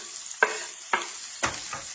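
Onions going into hot oil in a pan, with three or four sharp sizzling bursts as they hit and are stirred, each fading to a steady soft fry.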